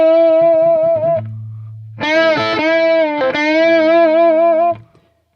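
Distorted electric guitar lick in a rock style: a bend, an upstroke, then a bend and release, with a short low sustained note before a longer, sustained wailing bend that rings out and stops near the end.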